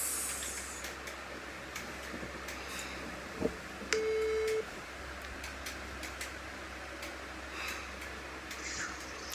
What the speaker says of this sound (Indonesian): Sekarang aku telepon dia dulu ya guys.